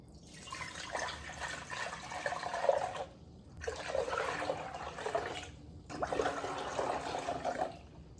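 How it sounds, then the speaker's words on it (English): Water pours into a bowl in three long bursts separated by short pauses, a close, steady splashing gush, with 16 cups being measured out for cooking chicken; no one speaks. "we're going to get 16 cups of water into this bowl."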